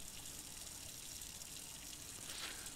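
Water gushing and flushing out of a drain in a 1980s Japan horror video game, a steady, fairly faint rushing wash of water throughout.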